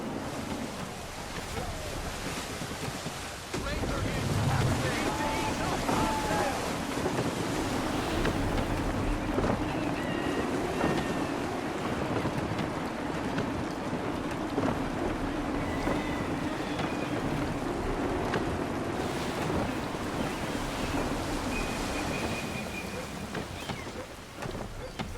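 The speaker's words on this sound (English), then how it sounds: "Wind looks to be shifting. Stay alert, Connor. Gusty winds can be difficult to manage." Gusty wind and rolling ocean waves surround a ship at sea in Assassin's Creed 3, a steady, loud, broad roar of wind and surging water that continues unbroken throughout.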